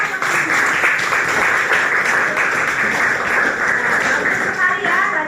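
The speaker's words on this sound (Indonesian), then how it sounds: "Oke, tepuk tangan ya." A dense, steady round of applause from a classroom group, many hands clapping together continuously, fairly close and loud throughout.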